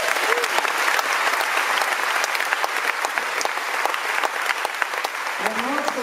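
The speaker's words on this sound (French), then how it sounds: "je voudrais applaudir très très fort au son pour vous" An audience at the Francofolies festival in La Rochelle gives sustained applause for the sound crew after a concert, dense clapping across the whole stretch with faint voices underneath.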